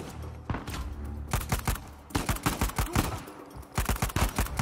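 Gunfire bursts in Uncharted 4, rapid automatic shots in several loud clusters separated by short pauses, close and punchy, with no talk over them.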